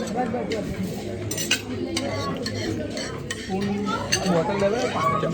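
Spoons and cutlery clink against dishes at a busy Indian restaurant in Sydney, Australia, a quick irregular run of bright metallic chinks over background chatter and talk.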